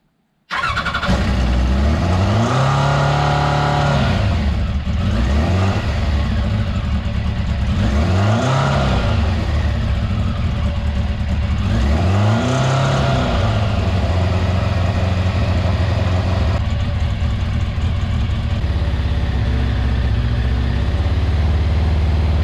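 A Kawasaki ZX10 motorcycle engine with freshly changed plugs starts and runs loud and close, its steady idle broken by three rising-and-falling revs before settling back down, with no voices.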